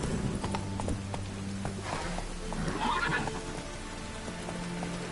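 Roach, Geralt's horse in The Witcher game, clip-clops along at speed and lets out a clear neigh partway through, with light rain pattering underneath and no talking.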